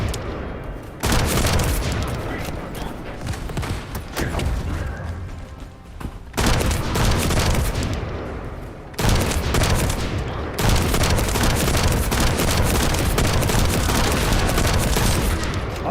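Video game gunfire rattles in long, loud, continuous bursts against an enemy shield bearer, with brief gaps between sustained volleys.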